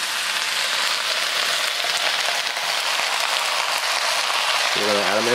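Mushrooms sizzling in a sauté pan for a casserole: a steady, bright crackling hiss throughout, close and even, with a voice starting briefly at the end.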